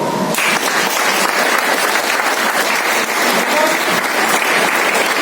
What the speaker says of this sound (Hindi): तो आप लोगों के लिए एक हाथ ताली हो जाए।